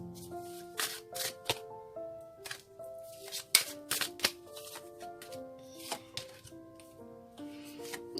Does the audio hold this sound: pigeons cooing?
no